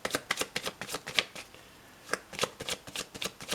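A pile of oracle cards is shuffled by hand in quick, close, rustling bursts, with a short pause midway before the riffling resumes.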